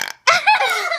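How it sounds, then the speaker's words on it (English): A toy called the burper lets out a short, loud, gurgling belch that follows a brief squeak, close up and alone. "there is the mysterious thing that burps every time"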